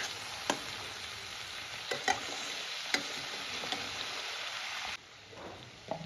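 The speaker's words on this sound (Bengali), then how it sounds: "এবার আমি এখানে অ্যাড করে দেবো আদা রসুনের পেস্ট, দিয়ে আরও 2 মিনিটের মতন ফ্রাই করে নেব" Ginger garlic paste sizzles steadily in hot oil in a pan, a dense, close frying hiss broken by a few clicks of stirring before it drops quieter near the end.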